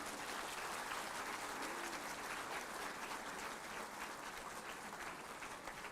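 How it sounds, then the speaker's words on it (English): Large audience at a C-DOT foundation day event applauding steadily, a dense continuous wash of clapping from many hands that holds evenly for several seconds, heard at a distance and fairly faint. "give a round of applause to yourselves"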